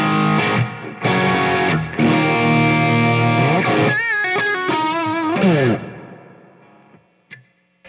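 Electric guitar, a Squier Classic Vibe 50s Stratocaster, run through a stacked Brown Protein overdrive at high gain: loud, thick, saturated sustained chords and bends ringing out, then fading into quiet at the end.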